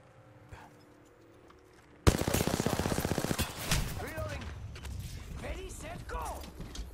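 Incoming gunfire striking the player in a first-person shooter: after a quiet start, a sudden loud burst of rapid automatic shots rattles on, then continues more sparsely alongside whooshing effects and game sounds.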